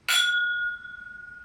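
Two whisky glasses clink together once in a toast, a bright ringing ding that hangs with a steady sustained tone and slowly fades, close and clear with no talk.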